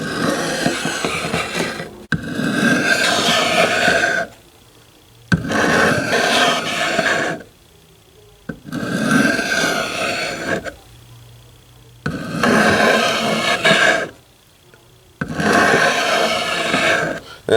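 Hooyman machete blade being sharpened in sections, long raspy file-like strokes in six sustained bursts separated by short pauses, close and loud.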